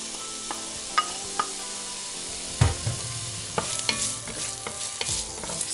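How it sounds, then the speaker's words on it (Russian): Onion sautéing lightly in vegetable oil in a pot gives a gentle, continuous sizzle, marked by repeated close clicks and scrapes of a utensil stirring against the pot. "Разогреваем немного растительного масла. И слегка пассируем лучок."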